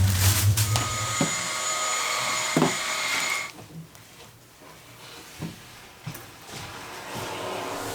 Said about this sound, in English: Okay, vacuum cleaner.